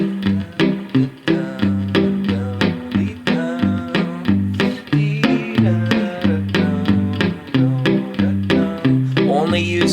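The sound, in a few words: guitar playing alternate bass melody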